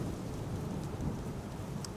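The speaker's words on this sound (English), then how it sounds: "Sorry for the rain." Steady rain falls throughout at Amsterdam Schiphol Airport during a storm, a dense hiss with low rumbling underneath, continuous and fairly loud with no voices.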